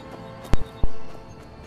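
Two sharp, loud hoofbeats from a horse in the video game Skyrim land close together over quiet ambience, each thump fading briefly.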